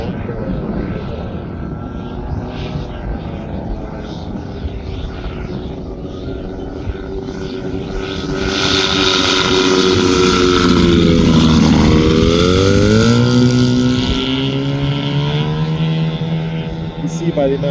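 A giant scale radio-controlled F8F Bearcat model airplane in flight, its engine droning steadily and swelling louder as it passes nearby with a shifting, Doppler-like pitch change, then holding a strong steady tone.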